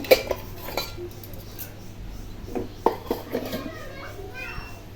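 Cooked dishes, including mashed potato, being covered in a home kitchen: a handful of sharp clinks of lids and plates, spaced apart, with children's voices chattering in the background.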